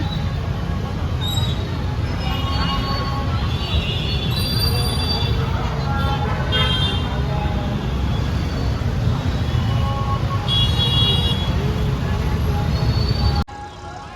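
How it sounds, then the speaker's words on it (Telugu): Heavy road traffic near the Vijayawada Durga temple during the Dasara festival makes a dense, continuous rumble of engines, with scattered horn tones and faint voices in the background. "ఇక్కడ ట్రాఫిక్ అయితే చాలా హెవీగా ఉంది"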